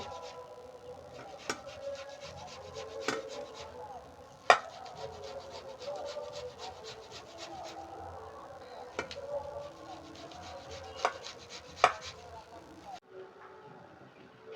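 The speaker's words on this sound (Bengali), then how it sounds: "আর আলুটাকেও আমরা একই সাথে গ্রেট করে নেব।" A potato is grated by hand for egg lollipops, giving a long run of quick, rhythmic scraping strokes at close range, with a few sharper knocks along the way and a short pause near the end.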